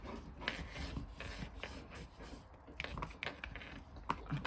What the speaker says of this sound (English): let's just give this all a lovely burnish